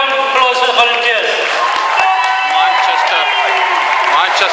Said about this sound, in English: Can we just have one big round of applause for the volunteers?